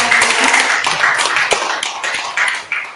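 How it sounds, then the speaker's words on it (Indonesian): Audience at an Indonesian community gathering breaks into dense, continuous applause with a few sharp claps standing out, fairly close and loud throughout, dipping slightly at the end. "Beri tepuk tangan sekali lagi."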